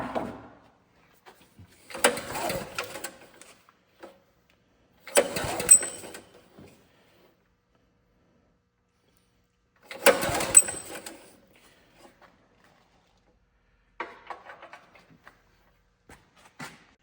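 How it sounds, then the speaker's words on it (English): The ripcord on an abandoned go-kart's seized motor is pulled several times, each a short rasping, rattling burst with silent gaps between, close by and with no voices. "pull the ripcord here and see if the motor's freed up or not"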